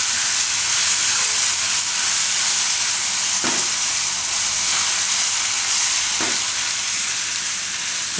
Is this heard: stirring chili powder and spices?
yes